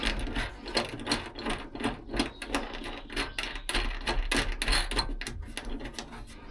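Ratchet clicking in quick, uneven bursts as it tightens a fitting on a Scania 143H V8 truck under restoration, close and fairly quiet with no talking.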